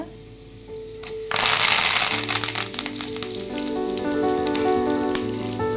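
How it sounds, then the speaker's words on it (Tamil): Fenugreek seeds and curry leaves drop into hot oil and burst into a loud, close sputter and crackle that stays constant, with a faint tonal hum underneath. "வெந்தயம் நல்லா பொரிஞ்சோன்னே கருவேப்பிலை போட்டுக்கோங்க"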